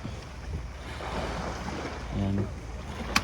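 Low rumbling engine of a small fishing boat heading out to sea for tuna, over wind and water, steady throughout, with a brief louder thump near the end.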